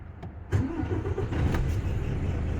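A vehicle engine cranks and catches at about half a second, then settles into a steady, close rumbling idle.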